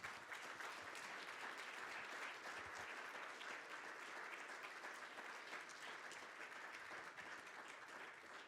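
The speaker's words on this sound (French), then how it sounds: "Je crois que vous pouvez tous les applaudir très fort." Audience applause after an opening speech at a conference, a dense, steady wash of clapping that holds evenly throughout, moderately distant with no voices on top.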